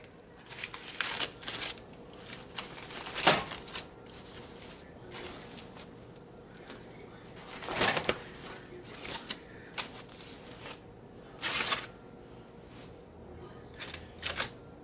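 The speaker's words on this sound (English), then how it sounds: "Now I'm going to unwrap it." An oven-baked potato is unwrapped from its foil, giving bursts of crinkling and crackling spaced through the stretch, some sharp and loud, with quieter rustles in between.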